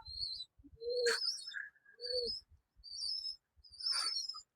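Rajshahi Giribaz pigeon cooing and chirping close by, several short separate calls in a loose rhythm with quiet gaps between them.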